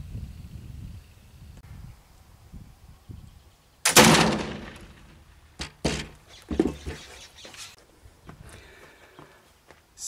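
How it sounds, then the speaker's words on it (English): A homemade black powder gunshot cracks loudly once at close range, followed by several fainter thumps and handling noises, with quiet murmuring talk beforehand. "the gunpowders that I'm shooting in this video right here"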